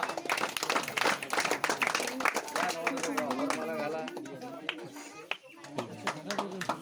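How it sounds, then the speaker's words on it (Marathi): Guests clap at a wedding ceremony, a dense burst of hand claps mixed with crowd chatter and a voice, the applause thinning toward the end with a few scattered claps. "चला टाळ्या वाजवा"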